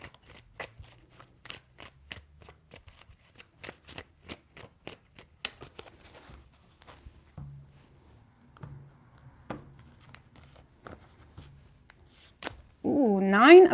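Tarot deck shuffled by hand in a run of quick crisp riffles and taps, close and fairly quiet, with pauses between bursts and a voice speaking briefly near the end.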